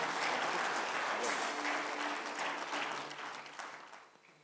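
Applause from a conference audience for a singer performing with a band: a full, steady wash of clapping that gradually fades away over several seconds.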